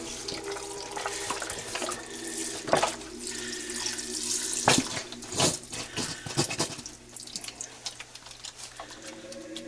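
Broth pours steadily from cartons into a large soup pot for smoked chicken noodle soup, a continuous gurgling splash at moderate level with a few louder glugs and no talk.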